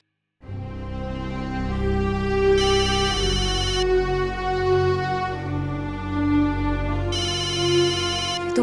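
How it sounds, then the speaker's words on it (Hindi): A melodic electronic phone ringtone plays continuously, loud and close, with repeating tonal phrases and no voices. "तो मिस्टर वर्धन के ऑफिस से फोन है"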